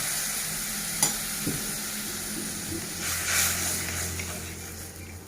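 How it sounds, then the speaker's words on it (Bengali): Sizzling and frying from a pan of mustard-based rohu fish curry masala as water is poured in, a steady hiss with a few clinks and a brief surge of bubbling, close and moderately loud with no talking. "কষানো হয়ে গেছে, এখন আমি পরিমাণ মতো জল দিয়ে দিচ্ছি।"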